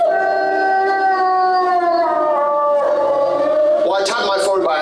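Wolves howl together in a sustained, layered chorus of long gliding tones that slowly fall, then break into higher overlapping yips and wavering cries near the end, loud and close.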